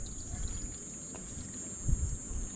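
Water is poured in an outdoor Jamaican yard while seasoning is being prepared, a faint, soft trickle and splash heard close by over quiet background hiss.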